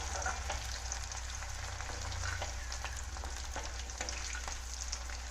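Potatoes fry in a pan with a steady close sizzle and scattered crackling pops, a low hum beneath, continuous and moderately quiet, no one speaking.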